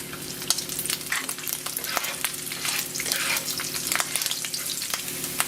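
Strips of middle rasher bacon fry in a pan with a dense, continuous close sizzle, broken by sharp crackles and spits throughout, loud and unaccompanied by speech.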